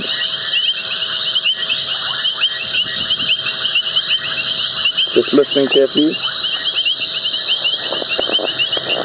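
Several frogs, among them a tiny dwarf puddle frog, call at night on a game reserve, forming a dense, steady chorus of high trilling and clicking. A brief voice murmurs over it midway.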